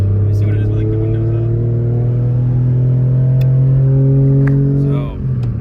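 Toyota JZX100 with a swapped turbo engine and Greddy intercooler droning steadily while driving with the windows up, a loud low cabin hum that stays even throughout.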